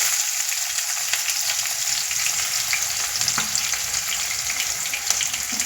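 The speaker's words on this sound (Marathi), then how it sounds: "आणि कांदा पण टाकत आहे लगेच।" Onions and green chillies frying in hot oil with cumin and mustard seeds in a pan while making kande pohe, a steady, loud, continuous sizzle with occasional stirring, close up and with no talk.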